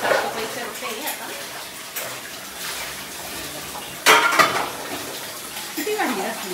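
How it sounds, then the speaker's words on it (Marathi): Dishes and metal utensils clink and clatter as a household cupboard is cleaned out, with intermittent sharp knocks and scrapes over quiet room noise, including one louder clatter midway. "किती भांडी असली काही पण मी आता कपाटाची पुसून घेते"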